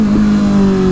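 A Kawasaki ZX6R inline-four motorcycle engine drones loud and steady at high revs, its pitch holding constant before a higher harmonic line joins in.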